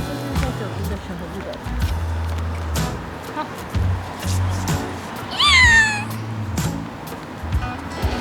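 A hungry abandoned cat gives one clear, rising-falling meow close by, heard amid street and traffic background noise while a person talks on and off.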